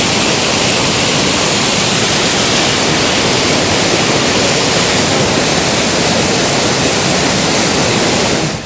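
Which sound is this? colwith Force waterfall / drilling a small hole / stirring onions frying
colwith Force waterfall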